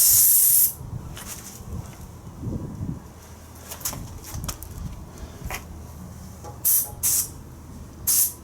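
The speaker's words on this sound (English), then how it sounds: "I guarantee if I don't blast them with penetrating fluid, they're not coming out." Bursts of penetrating fluid sprayed onto seized screws and nuts on the chassis of a 1972 Triumph Spitfire, several short hissing blasts at the start and near the end with quieter handling noises between.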